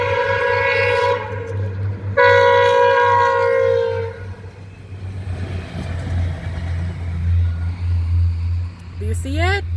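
VIA Budd rail diesel cars pass a railroad crossing in Devon, Ontario, with two loud, drawn-out horn blasts over a steady diesel rumble. A nearby voice is heard, and a brief rising ring follows at the end.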